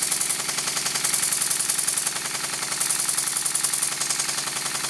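Model steam engine running with a steady, rapid exhaust beat, loud and close, its chuffing rhythm continuous with a hissy top and shifting slightly in tone as an opening in the bench beneath it is covered by a spanner.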